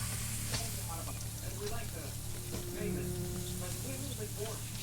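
Steady sizzling of meat roasting in the game Medieval Dynasty, with soft clinks and background game tones beneath.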